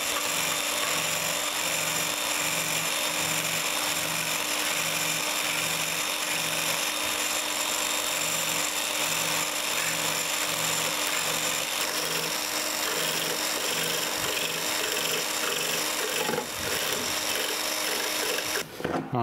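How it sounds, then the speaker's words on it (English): A Biax power scraper works a tapered gib for a Monarch lathe cross slide, giving a steady, close mechanical buzz with a regular pulsing stroke rhythm that runs throughout, with brief pauses near the end. "I'm going to be using my Biax power scraper here"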